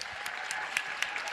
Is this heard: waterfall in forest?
no